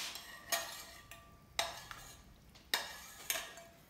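A metal spoon clinks against a pan and plate while sauce is spooned over turkey roulade, a handful of sharp, faint, close taps spaced irregularly, with no talk.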